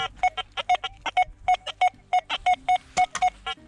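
A metal detector signalling ferrous metal emits a rapid series of short, choppy beeps in an irregular rhythm, close and clear.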